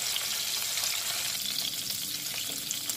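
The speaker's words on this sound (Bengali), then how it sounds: "কপির টুকরোগুলো ভাজার সময় খেয়াল রাখতে হবে যেন পুড়ে না যায়।" Cauliflower pieces fry in oil in a pan, giving a soft, continuous sizzling crackle at low volume, with no voices over it.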